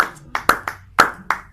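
A church congregation claps during a service: about six sharp, slightly uneven claps in quick succession, close and clear.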